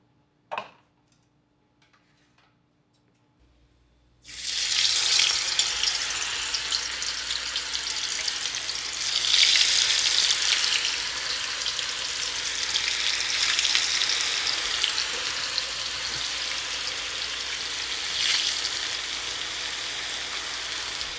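Hot vegetable oil sizzling and crackling loudly and steadily after a quiet start, as hash browns are dropped into a pan and fry continuously.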